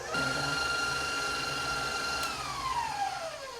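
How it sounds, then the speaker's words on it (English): An electric mixer beats butter, cream cheese and pumpkin spice at medium-high speed, a steady close motor whine with a tone that shifts as the speed changes, under no talking. "We're going to put the mixture on medium-high speed and beat it for a couple minutes"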